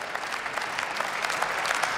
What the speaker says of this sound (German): ich sehe vereinzelt Applaus bei den Kolleginnen und Kollegen der CDU-CSU-Bundestagsfraktion